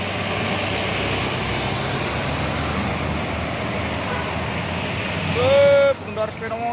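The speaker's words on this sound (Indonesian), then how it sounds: "Hino PS truk Pesoren beriringan melewati tanjakan Bukit Kodok." Hino trucks labour up the steep Bukit Kodok hill in a convoy, a steady loud engine drone close by, ending with a sharp rising whistle or horn-like tone and a speaking voice.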